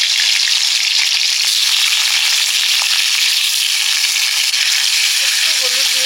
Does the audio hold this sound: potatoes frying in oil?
yes